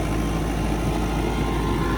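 A tractor working with a 12-foot rotavator runs with a steady, dense engine drone, heard close and continuous with no voices.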